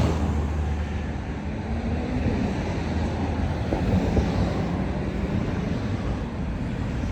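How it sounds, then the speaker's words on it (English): Traffic passes steadily outdoors with a continuous broad rush that swells slightly midway, sitting at a moderate distance with no voices. "Plenty of cars going by right now."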